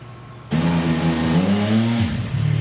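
A CFMoto 675 SR-R 2025 motorcycle engine revs in neutral, starting from a steady idle, climbing to a loud, sustained high-rev hold for about a second and a half, then dropping back toward idle.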